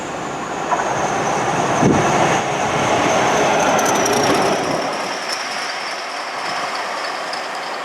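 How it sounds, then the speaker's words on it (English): A Class 40 diesel locomotive runs through Mills Hill station in Greater Manchester, a loud, sustained rumble with wheel squeal and rail clatter, the roar fading toward the end as the train passes by. "Seeing that Class 40 through Mills Hill was just flipping epic."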